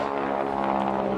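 A Harvard G-NWHF propeller trainer drones loudly and steadily overhead while flying a slow barrel roll at an air show, its rich buzzing engine note constant with no voices.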